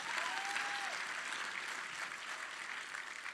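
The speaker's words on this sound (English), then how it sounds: "You may applaud." Audience applause at a live game-company stage show during a convention, a steady wash of clapping from a large crowd that holds at an even level throughout, with no voices standing out above it.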